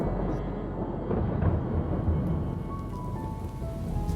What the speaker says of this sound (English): you hear a distant rumble of thunder